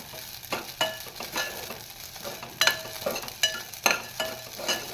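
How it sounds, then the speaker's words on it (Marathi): Sago pearls sautéed in ghee for kheer crackle and sizzle softly in a pan, with repeated scraping stirs and light taps of a spoon in an uneven rhythm, close and quiet with no talk. "तुपावरती परतवाय मस्तपैकी छान"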